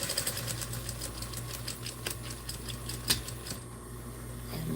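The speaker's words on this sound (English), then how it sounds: "we'll sew this up as far as we can go" Sewing machine stitching fabric, a steady mechanical whir with rapid rhythmic needle clatter that runs through most of the stretch and eases off toward the end, heard alone without talk.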